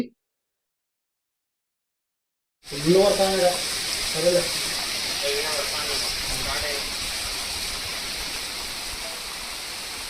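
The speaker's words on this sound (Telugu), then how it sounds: "వర్షం చూడండి మీరే నీళ్ళల్లో ఎలా కనిపిస్తుందో ఒకసారి సౌండ్ కూడా వినండి" After a few seconds of silence, heavy night rain hisses down steadily onto floodwater covering a village, close and loud; a voice speaks briefly as the downpour starts.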